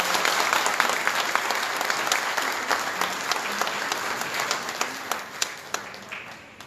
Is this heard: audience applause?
yes